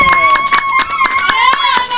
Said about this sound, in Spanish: ¡Aplauso pues!